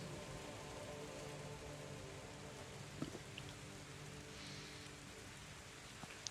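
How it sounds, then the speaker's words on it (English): Constant light rain, somewhere between a drizzle and a gentle shower, falls outdoors as a faint, even hiss with an occasional soft drop standing out. "Little bit more than drizzle, little less than a light rain."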